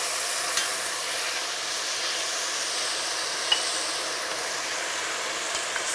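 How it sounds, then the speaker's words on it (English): A pan of browned bits for Bloody Mary soup hisses as vodka deglazes it, an even, bright sizzle lasting throughout with a few faint pops. "And now I'm going to be adding the vodka now. We're going to deglaze this pan."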